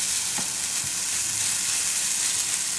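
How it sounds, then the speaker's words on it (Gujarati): Soya cheela batter is ladled onto a hot pan and sizzles in a continuous, even frying hiss, close and unbroken, with a couple of faint spoon knocks early on. "તો આ રીતે ચમચો લઈ અને ખીરું નાખીશું આમાં."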